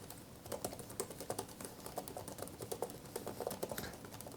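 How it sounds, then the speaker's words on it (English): Rapid, steady key presses on the keyboard of a 2024 HP Spectre x360 14 2-in-1 laptop, a close, quiet run of soft clicks with uneven rhythm and no voices. "I'll just do some typing so you can actually hear the actual keys sound"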